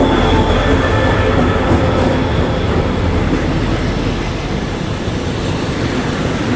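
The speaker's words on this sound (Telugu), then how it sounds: "ట్రైన్ వచ్చేసింది." Loud, continuous rumble of a train rolling in near the Malaysia–Thailand land border, heavy low-end roar with a faint high whine, no voices.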